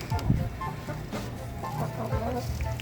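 Chickens in a coop cluck softly in short, scattered bursts over a steady low background hum, with no talking.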